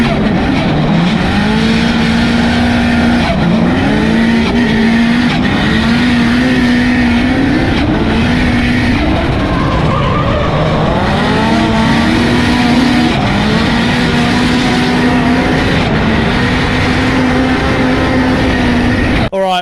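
Two drift cars go head to head, an S13 Silvia with an SR20 engine and a V8-swapped KE70. Their engines roar and rev hard without a break, the pitch rising and falling over a constant loud blur of tyre and exhaust noise.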